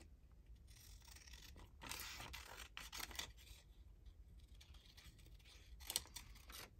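Scissors snipping paper pieces for a medieval-themed journal spread, quiet close-up cutting and rustling in short bursts with no talk.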